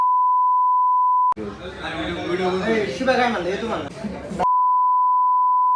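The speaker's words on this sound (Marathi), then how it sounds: "बोल बीप टाकतो बोल" A steady censor beep added in editing holds alone for over a second, cuts out while someone talks, then returns unbroken to the end.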